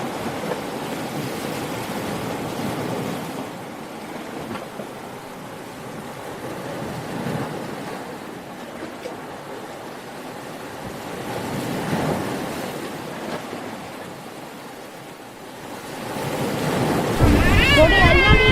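Strong sea wind buffets the microphone at a coastal lighthouse in Thiruvananthapuram, Kerala, roaring steadily with surf washing below and gusts swelling louder toward the end.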